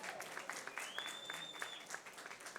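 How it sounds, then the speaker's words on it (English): An audience at the Joe Sample Soundstage premiere in Houston applauds for Joe Sample. The clapping is soft and distant, with scattered claps over a hushed room and a faint whistle partway through. "Let's give him a round of applause."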